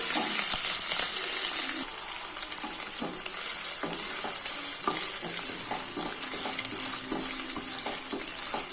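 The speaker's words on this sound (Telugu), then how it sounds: "ఇప్పుడు మిరపకాయలు పోపులకు వేస్తామండి" Steady, bright sizzle of chillies frying in hot oil, with occasional stirring clinks and pops throughout, close and fairly loud, no voices.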